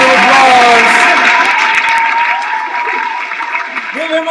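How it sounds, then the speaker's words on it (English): Loud applause from a crowd with scattered cheers and voices, gradually fading to lighter clapping. "One round of applause."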